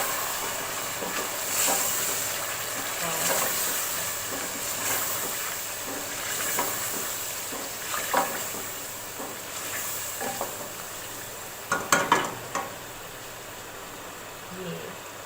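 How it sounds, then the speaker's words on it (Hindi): Yogurt and water poured onto spiced masala in a cooking pot for korma pulao set off a steady hiss and sizzle, with stirring scrapes and a cluster of utensil clinks near the end. "अब इसमें मैं डाल दूँगी दही और पानी, तकरीबन 3 से 4 खाने के चम्मच दही को"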